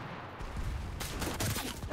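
Rapid gunfire cracks from a semi-automatic weapon in the World War II shooter Enlisted during a battle to take an airfield, loud dense bursts crowding the short stretch with other shots sounding around it.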